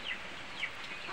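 Chickens feeding at a farmyard trough, with soft clucks and high chirpy calls rising now and then over a steady rustling background. No one speaks.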